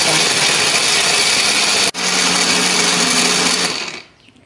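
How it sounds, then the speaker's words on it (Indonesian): A blender grinds chili and spices with a little water in a loud, steady whirring roar, dips for a split second partway through, then winds down and cuts off. "Setelah ini kita siapkan blender."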